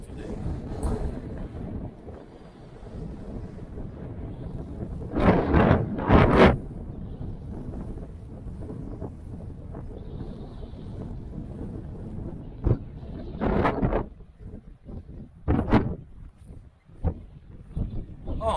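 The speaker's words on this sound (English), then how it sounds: "A bit windy today." Gusty wind buffets the microphone outdoors on the Torrs at Ilfracombe, North Devon, a constant low rumble that swells into a few louder blasts.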